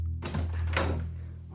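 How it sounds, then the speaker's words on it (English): A front door bursts open in an audiobook sound effect, a single loud thunk with a short rattling decay, heard alone without narration. "Magpie bursts through the front door of her house"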